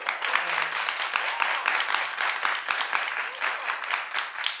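A studio audience claps in a moderate, slightly distant burst of applause lasting several seconds, with some voices faintly underneath.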